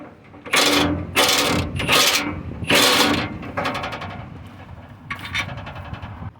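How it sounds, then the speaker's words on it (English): A hand ratchet works a 13mm bolt loose on a Ford 5.4 engine, giving several bursts of rapid, close metallic clicking separated by short pauses. "right now we're gonna remove the 13mm bolt that is left right there"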